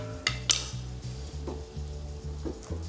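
Several scrapes and clinks of a utensil against a roasting pan, loosening meat drippings for gravy, over a low steady hum; close and moderately loud, no voices.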